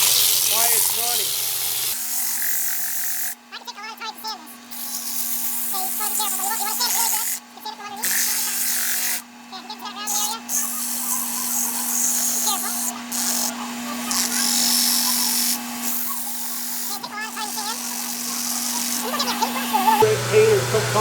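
A wooden gumball machine part spins on a running wood lathe while sandpaper is pressed against it, giving a steady hum with intermittent scratchy sanding bursts. A person speaks over the noise in places.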